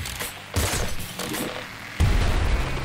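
Video game gunfire in Nuclear Throne rattles in a dense, continuous barrage, with louder bursts striking in at intervals and no talking.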